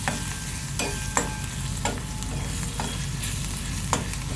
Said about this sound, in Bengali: এরপর সরষের তেলে বেশ খানিকক্ষণ নাড়িয়ে নেবো আমি ওই রসুনখানা।